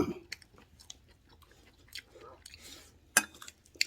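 Quiet chewing of a shepherd's purse namul bibimbap dressed with perilla oil, soft moist mouth sounds with a couple of sharper crunchy bites and faint utensil clinks, close and low under a little background murmur.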